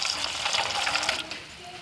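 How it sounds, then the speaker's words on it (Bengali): Water poured into a cooking pot of soybean chunks, a close, steady splashing gush lasting under two seconds with no talk. "জল।"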